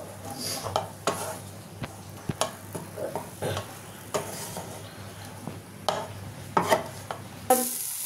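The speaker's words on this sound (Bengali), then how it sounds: "টমেটোটা একদম হালকা ফ্রাই করবো" Tomato being lightly fried in a pan during home cooking for a Bengali-style chicken pizza, with soft clinks of a stirring utensil against the pan over a low background, scattered scrapes and taps and a louder rattle at the end.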